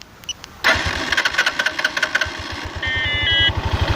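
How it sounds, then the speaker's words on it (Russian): Lifan LF150-2E motorcycle started by remote alarm with no key in the ignition: a short beep, then the engine catches at once and settles into a close, steady, pulsing idle, with chirps from the alarm near the end. "Как видите, мотоцикл завелся с первого раза."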